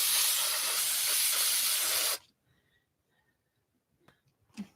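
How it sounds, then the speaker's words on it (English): Aerosol spray can releasing a light spray over a small wooden box being finished, a steady close hiss lasting about two seconds before cutting off, followed by quiet handling sounds and a soft knock. "Let's just give it a light spray."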